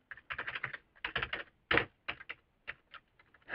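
Computer keyboard keys click in quick bursts of close, crisp taps, with short pauses between clusters and a louder clack at the end.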